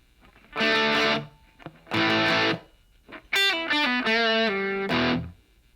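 Two heavy distorted electric guitar chords from a riff ring out with pauses between, followed by a quick run of picked single notes and a final chord.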